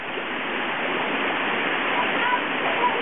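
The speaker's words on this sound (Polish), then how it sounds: "Znajdujemy się na szlaku Chorne Biery, gdzie jest masę takich wodospadów." A mountain waterfall on the Horne Diery trail pours in a steady, close hiss of rushing water, even and unbroken for a few seconds.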